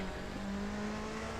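A Toyota Celica GT4 ST185 rally car engine in the Assetto Corsa racing game holds a steady, bass-heavy drone at constant revs for a short stretch, with no talk over it.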